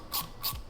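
Two short ratcheting pulls with a 7mm socket on radiator hose clamps, each a quick dry click-whirr, close and fairly quiet, with a brief pause between them.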